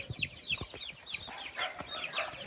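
Several chickens cluck and chatter nearby, soft repeated calls overlapping at a moderate volume, with no talking.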